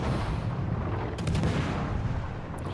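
Battleship main guns fire in the naval game World of Warships Legends, heavy booming salvos rolling together into a dense, loud rumble with a sharper crack near the middle, no voices over it.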